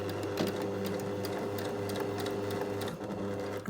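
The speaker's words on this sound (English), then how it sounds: "I'm using my edge stitching guide to give me a close stitch." A sewing machine runs a continuous close stitch along a seam with an edge stitching guide, its steady mechanical whir and rapid needle ticking held close throughout, briefly easing near the end.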